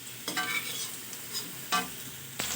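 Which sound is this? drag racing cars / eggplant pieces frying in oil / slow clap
eggplant pieces frying in oil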